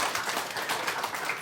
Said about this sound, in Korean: 박수 한번 치게요